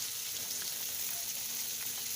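Pieces of katla fish fry in hot oil in a wok, giving an even, continuous sizzle dotted with faint crackles and pops.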